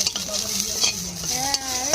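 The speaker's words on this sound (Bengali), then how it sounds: "বড়িটা ভেজে নেবো" Bori lentil dumplings frying in hot oil in a Bengali home kitchen, a close steady sizzle and crackle with a utensil stirring and scraping the pan.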